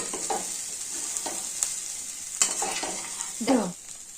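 Chickpeas tossed with chaat masala and fresh coconut are stirred in a pan, giving a few separate scraping spoon strokes with a light sizzle underneath, the firmest scrape coming near the end.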